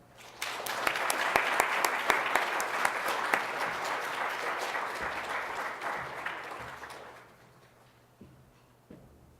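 Sustained audience applause welcoming a lecturer to the podium, dense and steady for about six seconds before thinning out and fading to a few scattered claps.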